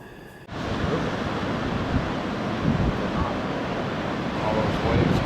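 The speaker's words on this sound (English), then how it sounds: "All those waves." Waves breaking on the shore at Richards Bay on a cold, rainy morning, a steady broad wash of surf and wind that starts abruptly and holds loud and even throughout, with no talk.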